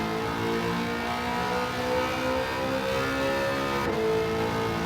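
LS9 V8 engine in Gran Turismo 7, a loud, rich, sustained roar held at high revs, with a brief dip near the end.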